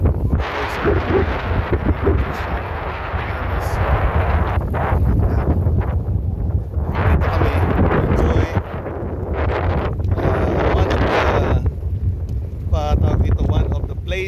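Strong coastal wind at Bued Mangrove Park in Alaminos City, Pangasinan, roars and buffets the microphone continuously, with a loud low rumble throughout and a voice speaking intermittently underneath.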